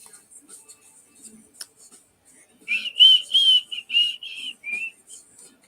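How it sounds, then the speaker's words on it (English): A person whistles a short tune of several sustained, bright notes, fairly close and moderately loud, after a quiet stretch with faint background noise. "Are you whistling?"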